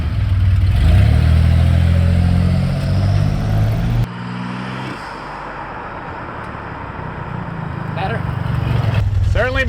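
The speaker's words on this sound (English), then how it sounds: "that sounds like a truck" A throaty turbocharged S10 truck engine revs loudly up close, dropping to a rough idle, then climbing again; people talk over the rumble.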